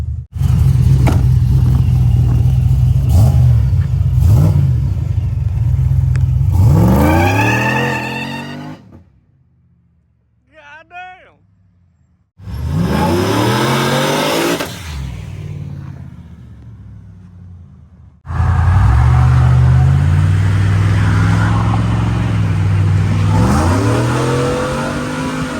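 A sleeper Chevrolet Silverado on Hoosier slick tires revs hard in repeated loud bursts, engine climbing and falling through several pulls with a brief quiet gap between them, close and alone without talking.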